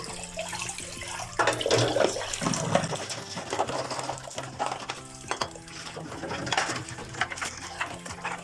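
Water running from a household tap during cleaning, a steady wash of flow with clinks of dishes and pots, fairly close and continuous, with brief louder splashes partway through.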